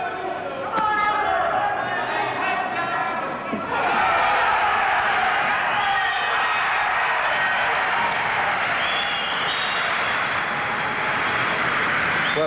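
A boxing crowd at a 1988 Kostas Petrou versus Ensley Bingham bout cheers and applauds after a round, a dense continuous roar of clapping and chatter swelling midway and sustained throughout, with a commentator talking over it.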